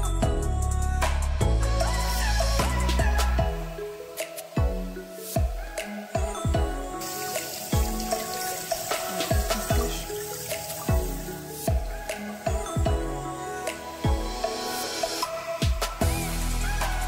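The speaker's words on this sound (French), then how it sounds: "on va prendre un tuyau qui va être relié directement à l'évier. Et on va le mettre dans l'aquarium." A home aquarium fills from a hose run off the kitchen sink, water pouring and splashing steadily with dense, uneven dripping and gurgling close by, and no talk over it.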